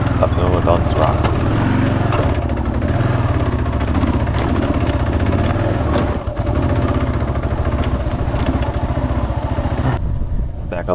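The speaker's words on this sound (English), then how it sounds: "Really tough uphill with the bike really just struggling up this uphill with all these rocks." A motorcycle engine labors hard climbing a steep rocky uphill trail, with a loud continuous revving drone and a person talking over it.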